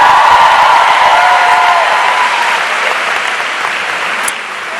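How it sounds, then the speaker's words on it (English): A large crowd at the Is'thunzi Sabafazi event gives Oprah Winfrey a loud, dense round of applause with some cheering mixed in. The applause is strongest at the start and fades slightly toward the end. "Another round of applause for Oprah Winfrey."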